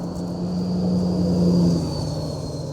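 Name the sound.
road traffic noise passing a metal detecting site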